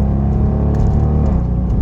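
A deep, steady Hemi V8 idle from a Dodge Durango R/T with a low rumbling burble, loud and close, holding constant throughout with no voices.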